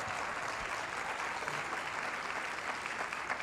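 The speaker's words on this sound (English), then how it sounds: "give her a huge round of applause." Conference audience giving a large round of applause: dense, continuous clapping from many people fills the room at even loudness throughout, with no voices standing out.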